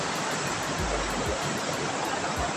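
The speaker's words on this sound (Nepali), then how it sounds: "बाढी खोलामा निकै नै ठुलो बाढी आएको छ" A swollen, flooded river rushes past a fishing village, producing a dense, continuous roar of water, loud and unbroken, with no voices over it.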